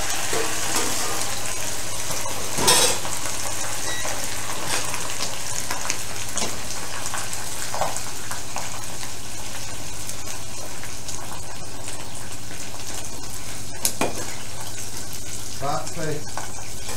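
Food fries in hot oil in a pan during a live cooking demonstration, a steady, dense sizzle and crackle that carries on throughout, with occasional clinks and a voice speaking over it.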